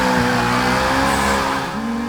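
Supercharged Ford GT350R racing in Forza 6, its loud engine drone running continuously with tire squeal layered over it as the car drifts, all close and steady with no talk.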